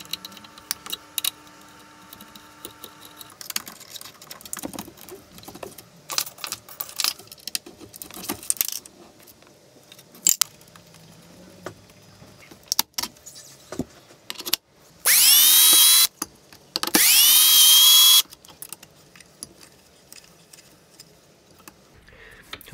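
Original Z-axis motor plate being dismantled with tools on a workshop machine build, with scattered metallic clinks, rattles and taps, plus two loud sustained power-tool bursts near the end.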